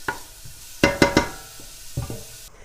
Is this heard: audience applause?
no